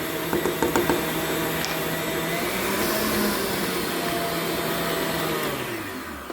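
An electric mixer creams sugar for Oreo cheesecake cookie dough, a steady close motor whir with a few faint clicks at the start, running evenly and easing slightly near the end.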